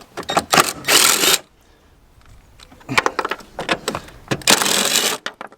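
A Ryobi power tool spins out bolts on a Corsa VXR during modification work, with two loud, close whirring bursts separated by a quiet gap and a few clanks.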